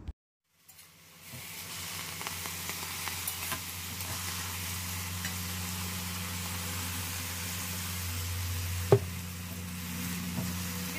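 Fresh leafy greens frying in hot oil with garlic in a wok, giving a steady, even sizzle over a low hum, with a single sharp knock near the end and no talk.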